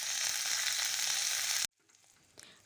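Onion and green chilies fry in a pan with a loud steady sizzle for over a second and a half, then cut off to near silence with a faint clatter.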